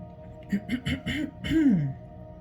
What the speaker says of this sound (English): y'all hear me clear my throat a couple of times